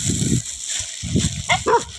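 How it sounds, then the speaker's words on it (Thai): A dog barks and yips near the microphone in short, separate bursts, a few sharp calls with brief pauses between them, and no one speaks. "มึงจะเห่าทำไม"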